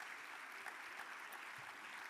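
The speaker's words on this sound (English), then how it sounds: "Give the mayor a round of applause." A conference luncheon audience applauds a city mayor, with a faint, steady wash of many hands clapping from across a large room and no voices over it.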